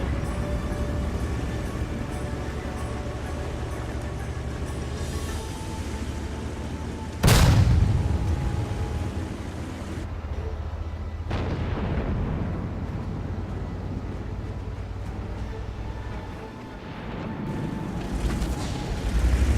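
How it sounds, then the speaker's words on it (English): Tank guns firing in World of Tanks, heard as a heavy booming blast with a long rumbling decay, then a second softer distant shot, over steady engine and battle ambience. "if you notice when you listen to the other tanks fire, their gun sounds actually sound a little different"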